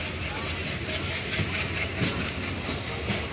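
A train hauled by a WDM-3D diesel locomotive passes out of Saidpur in light rain, making a steady, broadband rumble with faint clatter throughout and no gaps.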